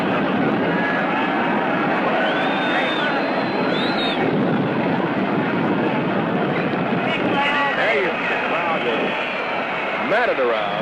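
Air Force One, a big presidential jet, arrives with a loud, sustained roar and rising whine over wind noise, with crowd voices and talk throughout.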